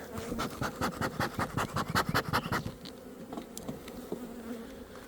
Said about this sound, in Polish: Coś to pszczoły, jakieś nerwowe.